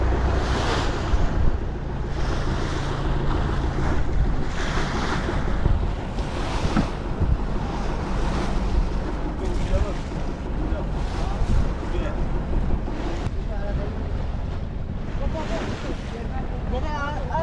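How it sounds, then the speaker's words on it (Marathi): A fishing boat heads out across the open sea to a deep-sea fishing spot, with steady broadband wash of waves and wind rumbling close at the microphone throughout, under a continuous low engine drone. "आणि आता आपली बोट मासेमारीच्या ठिकाणावर पोहोचणार आहे."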